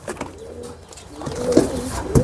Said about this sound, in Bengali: এই যে পাঙ্খি আরেকটা আসছে, একেবারে ফুল ভাইব্রেশনওয়ালা কবুতর।